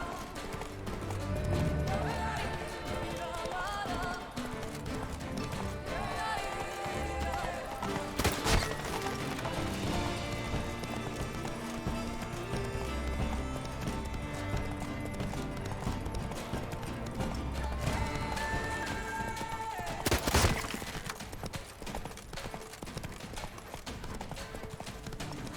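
Roach, a horse in The Witcher 3 video game, gallops with steady, continuous hoof clatter under game music, with sharp impacts near 8 and 20 seconds.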